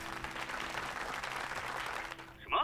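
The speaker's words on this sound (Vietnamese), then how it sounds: "vỗ tay chào mừng." Applause from an audience at a staged event as a brand representative is welcomed onto the stage: steady, dense clapping throughout, fading slightly before a brief louder burst at the end.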